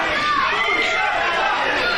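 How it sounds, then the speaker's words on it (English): Wrestling crowd at an Invictus Pro Wrestling match chanting "Mucho sucks" at Mucho Chris Moljo, a dense steady roar of many voices filling the room for the full two seconds. "And the crowd saying Mucho sucks."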